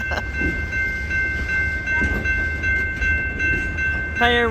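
A DeQueen and Eastern Railroad freight train rumbles past near Valiant, Oklahoma, with a steady low rolling roar, a sustained tonal whine and a brief horn blast near the end.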